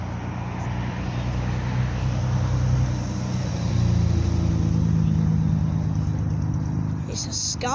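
A Nissan Skyline drives past at an outdoor car meet, its engine note rising and holding as it passes, with the crowd murmuring and people talking throughout.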